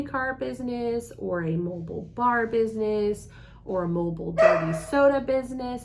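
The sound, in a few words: dog barking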